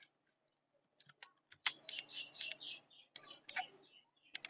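A computer keyboard is typed on in quick, uneven bursts of light clicks, close and fairly quiet, with brief pauses between runs of keystrokes.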